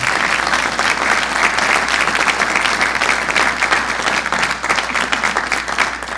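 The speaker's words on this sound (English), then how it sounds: "how about a big round of applause for our panelists today?" Steady, dense applause from a panel discussion audience at a chamber of commerce event, sustained and even throughout with no pauses.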